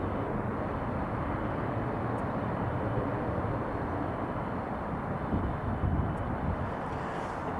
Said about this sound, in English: Now you'll see just over here you've got the KLM just taxiing, the 737-700